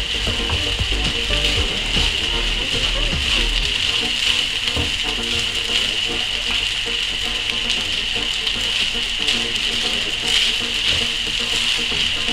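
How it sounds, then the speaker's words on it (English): Rice and vegetables frying together in a pan for Nigerian fried rice, a constant loud sizzle with occasional scrapes and stirring knocks, close by. "So I'm going to fry all the rice and the vegetables together like this until I finish all frying."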